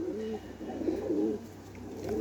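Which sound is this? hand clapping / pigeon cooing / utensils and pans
pigeon cooing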